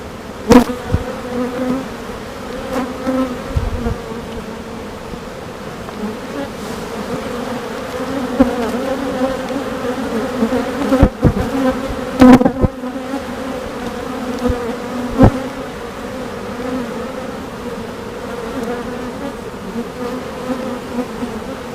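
Honeybees at a hive topped with honey supers, preparing to swarm, make a dense, loud, continuous buzz that fills the whole stretch, with occasional knocks and handling thumps.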